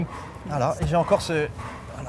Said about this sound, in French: C'est notre chien qui aboie.